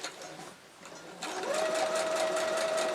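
Sewing machine running a straight stitch on flying geese quilt blocks, starting with a brief motor pulse before settling into a steady, close whirring hum that continues to the end.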